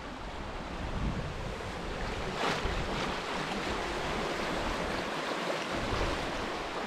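The Anapodaris river, swollen after heavy rain, rushes beneath the Garipa–Kastelliana bridge in a steady, loud broadband roar of churning water, with wind buffeting the microphone and no voices.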